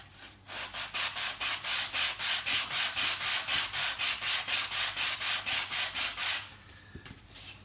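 Rapid back-and-forth sandpaper strokes across the edge of a paint pole roller, about twenty-five even rasping passes in a steady rhythm, close and clear with no talking.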